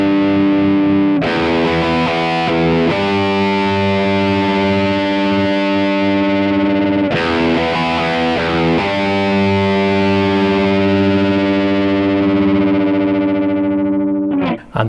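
Distorted electric guitar plays the intro riff of a song in 1982 style, sounding loud and close with sustained, heavily processed chords that change every few seconds and ring out at the end, without speech.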